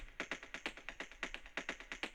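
Quiet, crisp electronic percussion hits in a fast, regular repeating pattern, like a looped clicky beat played alone.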